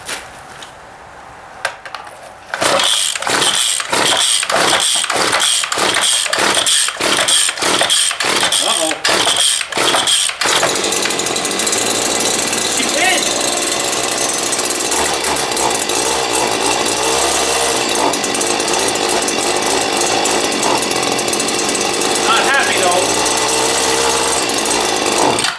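A string of sharp pull-cord yanks on a weed wacker precedes a cold start, then the small two-stroke engine catches and runs loud and buzzing, revving unevenly for the rest of the clip.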